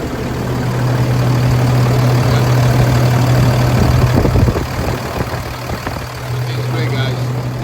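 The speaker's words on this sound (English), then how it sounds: "truck is running good" An International 4300 truck's diesel engine idles steadily and close, a constant low drone and rumble throughout with some clatter and a brief rise in noise midway.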